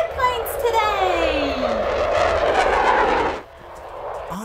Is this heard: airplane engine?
yes